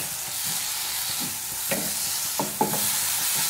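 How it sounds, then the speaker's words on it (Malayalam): Tomatoes and green chilies sizzling in a pan for Kerala-style chickpea curry, a steady loud hiss with a few sharp scrapes of a spoon stirring near the end, close and without speech. "നന്നായിട്ട് ഇളക്കി കൊടുക്കാം"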